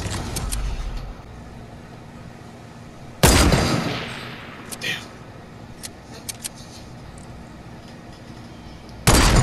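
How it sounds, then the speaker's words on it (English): Gunfire in Fortnite Battle Royale cracks in sharp, loud isolated shots, one near the start of a long decay and another at the end, with faint distant pops between, while a player talks. "Someone's shooting at me too."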